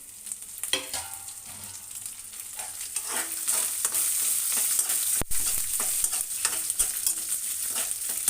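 Coriander seeds and dried red chillies fry in a pan with a bright continuous sizzle, broken by frequent stirring scrapes and one sharp knock midway.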